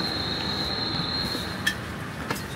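Train at a station during boarding, with a steady rumble of railway noise and a thin high tone, plus a couple of sharp clanks from the carriages near the end.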